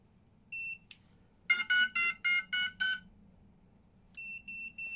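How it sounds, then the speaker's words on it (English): Self-powered buzzer on a Hyperlow Airshot quadcopter beeping as the motors stop: clear, close electronic tones, a single beep followed by a rapid run of six pulses and then three more evenly spaced beeps. "Makes that lovely little buzzing noise when it stops."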